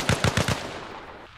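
A burst of four rapid, loud PKM machine gun shots in the Arma Reforger video game, evenly spaced and close, followed by a fading reverberant tail.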